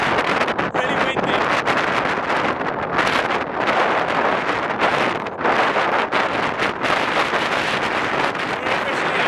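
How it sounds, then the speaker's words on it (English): Strong wind buffets the microphone in loud, continuous gusts on the summit of Corn Du, with faint voices barely audible beneath the roar. "Really windy."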